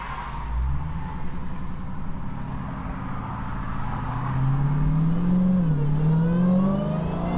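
A Dodge Hellcat Redeye accelerates hard in sport mode, its supercharged engine roaring steadily from inside the car and rising in pitch as revs climb, loud and continuous without speech.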